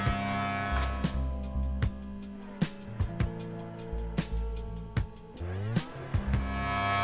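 Wahl electric hair clippers cutting hair for a fade haircut, a close buzzing hum with repeated sharp snipping clicks and short pulses as the blade passes through hair.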